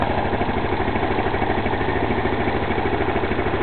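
A 260cc scooter engine idles steadily and loudly up close, its low, even putter running unbroken with no voices over it.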